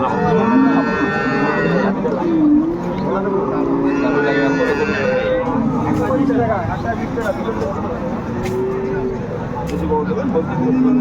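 Cattle moo loudly and repeatedly at an open-air cattle market selling improved-breed dairy cows and calves in Dinajpur, with people talking in a busy crowd around them.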